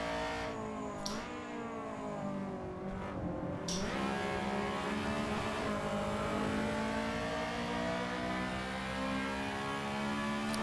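An EG Honda Civic races at Donington Park National in a video game, its engine droning loud and continuous with a rising pitch as it accelerates, and no voices.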